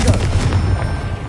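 Confringo fire spell blast in Hogwarts Legacy, a loud, dense booming burst with rumbling low end and crackle, sustained and close throughout the short moment.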